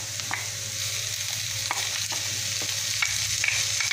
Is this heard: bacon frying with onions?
yes